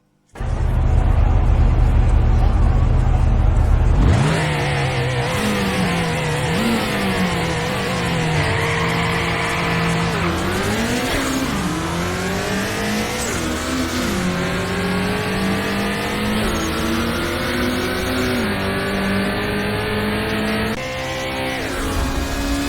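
A race car engine in the Nitro Nation game on Windows 10 PC roars at launch, then climbs through repeated revving gear changes with tire squeal, loud and continuous for over twenty seconds.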